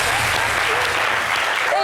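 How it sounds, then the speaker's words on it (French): Crowd applause for the POC at an Independence Day celebration in Yopougon, loud and steady throughout with some cheering voices mixed in. "On applaudit pour les POC."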